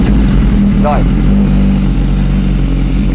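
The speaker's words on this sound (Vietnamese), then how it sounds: "bây giờ mình sẽ tiến hành mình nổ máy, nó sẽ hơi ồn nha anh em" A BMW S1000RR sport motorcycle engine runs loud and close throughout, a steady low throbbing hum with a brief rising rev near the start and a single short spoken word over it.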